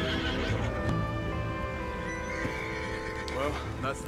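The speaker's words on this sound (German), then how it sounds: "ich beruhige erstmal unser Pferd" A horse in the Red Dead Redemption 2 video game lets out a loud whinny, with hoof clops and game ambience around it while a person talks over it.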